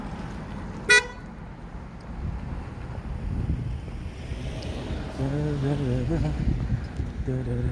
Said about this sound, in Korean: 빵빵거리네요.